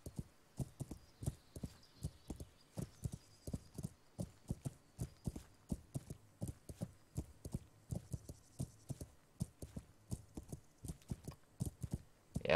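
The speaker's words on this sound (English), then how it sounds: "in this edition, now we have a horse" Horse hooves clip-clopping in the Kingdom Come: Deliverance video game, a steady, even rhythm of close, distinct hoof falls repeating about twice a second throughout, with a faint low hum beneath and no talk.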